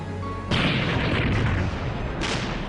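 Heavy naval guns firing at the Battle of Jutland, a deep booming blast that rolls on, followed by a second burst, loud with no talk.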